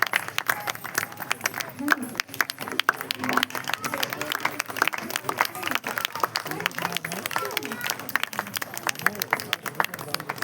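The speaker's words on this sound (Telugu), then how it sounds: "వాళ్ళు చాలా మంచి పెద్ద వాల్యూమ్లో క్లాప్స్ని డిజర్వ్ చేస్తున్నారు" Audience clapping at a cultural event, a steady spatter of applause running under an amplified voice speaking throughout.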